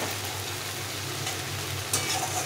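Spice paste for a fish curry is stir-fried in a pan, giving a close, steady frying hiss with a low hum underneath and a brief brighter scrape near the end.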